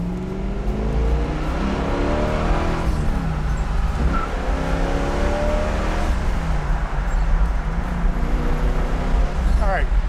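A 1971 Camaro's engine revs hard toward about 5,000 RPM, its droning pitch sweeping up and down in loud, close bursts over a continuous rumble.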